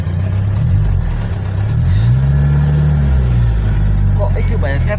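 A classic Morris Mini with a 1000 cc engine idles with a deep, steady rumble that rises into a slow rev and settles back, heard close and loud over the whole stretch.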